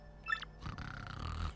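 Mario snores in Paper Mario: The Thousand Year Door, a short chime followed by one low, rumbling cartoon snore that trails off, alone with no speech.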